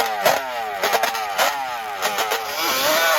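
Top fuel dirt drag racing motorcycle races against a Banshee 350 quad, with loud revving engine bursts and rising, sweeping pitch as they launch and accelerate, heard fairly close over a few seconds.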